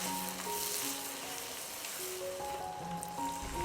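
Pork belly stir-fried with dark and light soy sauce, ginger slices, star anise, rock sugar and salt, sizzling steadily in a wok under a quiet musical background, no voices.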